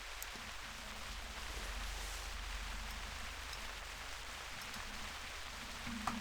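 Steady rain falls in the countryside during a deer-hunting stalk, a soft, even hiss with faint drips, heard up close without any voices.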